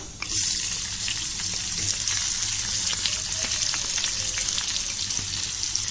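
Sliced onions and green chillies fry in hot tempering oil in a pan, giving a steady, close, bright sizzle that runs unbroken, with faint stirring clicks now and then.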